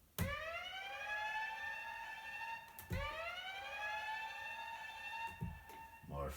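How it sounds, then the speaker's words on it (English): A riser or siren sound effect plays in a soulful beat made on an MPC Live II, with rising harmonic sweeps that restart several times over a steady backing, heard loud and clear with no talk. "More things, a riser or a siren, whatever you want to call it."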